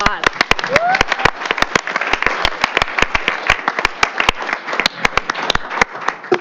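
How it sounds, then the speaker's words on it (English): A round of applause at a school board business meeting, sharp, close individual claps in an irregular rapid rhythm over several seconds, with a voice briefly audible underneath. "Let's give Rebecca another round of applause"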